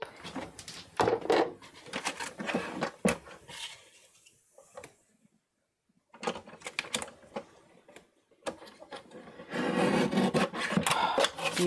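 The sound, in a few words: paper trimmer trimming card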